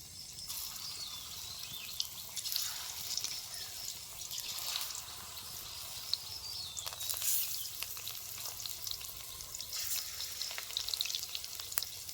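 Pumpkin flower fritters frying in hot oil give a steady, close crackling sizzle with scattered pops and bubbling spatters throughout, no voices.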